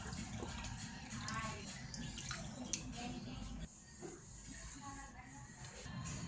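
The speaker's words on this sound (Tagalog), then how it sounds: "Lagyan natin ng tubig." Water poured into a cooking pot holding fish over dried kamias for ginataang tulingan: a faint, trickling splash that runs for a few seconds, then drops lower and quieter, with light handling noises.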